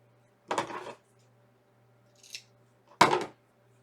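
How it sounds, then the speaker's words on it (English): Scissors snip through decorative ribbon in two crisp, close cuts with a softer faint snip between them, set against quiet room hum. "I'm going to cut this ribbon down."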